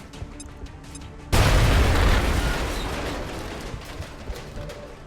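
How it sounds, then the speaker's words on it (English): A grenade goes off in the video game XCOM Long War, a single sudden loud boom with a broad burst of noise that slowly fades over several seconds, after quiet background sounds. "We're going to start with hero of our complex throwing a grenade."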